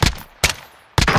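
Three loud, sharp SKS rifle shots ring out in Call of Duty: Warzone, spaced roughly half a second apart, each one followed by a brief decaying tail, with no speech.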